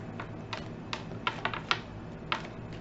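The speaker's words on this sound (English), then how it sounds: "I'm clicking here on this table." Sharp, light clicks tapped on a table, about ten irregularly spaced taps with small clusters, close and distinct over a quiet background with no talking.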